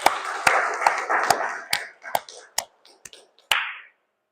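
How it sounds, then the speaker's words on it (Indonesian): Students in a computer networking class clap, a small group producing about nine sharp, spaced claps that thin out and fade. "tepuk tangan untuk kalian semua"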